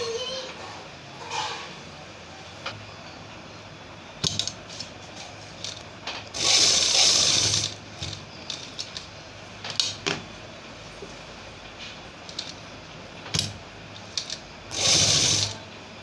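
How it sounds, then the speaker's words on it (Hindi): A sewing machine stitches the side seams of a baby night suit in two short, loud whirring runs, surrounded by softer clicks, handling of fabric and a speaking voice. "साइड की सिलाई लगा दी है दोनों तरफ की।"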